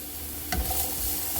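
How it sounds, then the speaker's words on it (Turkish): Onion dropped into oil in a pot for sautéing, a sudden burst of sizzle followed by a steady hiss over a brief, close moment, no speech. "Şimdi hemen bir soğanı koyuyorum içerisine. Soğanı biraz soteleyeceğim."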